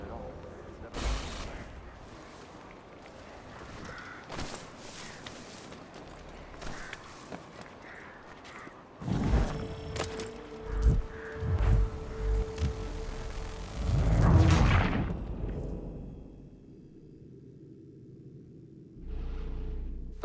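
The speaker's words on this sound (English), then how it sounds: "Those cannons are like to cause trouble." Cannons boom in Assassin's Creed III, with deep, heavy blasts rumbling through the middle of the scene amid battle noise, footsteps and character talk.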